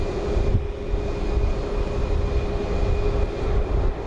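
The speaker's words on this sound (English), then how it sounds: "Another Max 8 slowly taxiing in front of us." A Boeing 737 Max 8 jet taxis slowly at Dallas Love Field, its engines giving a steady, moderately loud whine and rumble nearby with a constant tonal hum.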